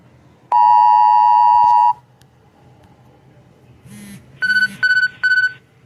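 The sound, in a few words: weather radar app alert beeping for thunderstorm watch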